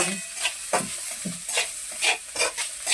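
Onion and garlic sauté in a pan, with repeated bursts of stirring and scraping over a light sizzle in an irregular rhythm, close and fairly quiet.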